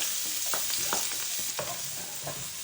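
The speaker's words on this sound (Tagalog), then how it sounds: "Gisahin lang natin." Garlic and ginger sizzle in hot oil in a pan beside fried fish, with a steady frying hiss broken by several short stirring scrapes, close and fairly loud, no voices.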